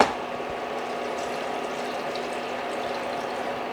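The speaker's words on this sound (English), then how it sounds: "I'm going to add a little bit more broth, and then the watercress and the broth." Homemade broth is poured into a pot of watercress soup with half-cooked potatoes, making a soft, steady liquid splashing and gurgle that runs quietly and evenly throughout.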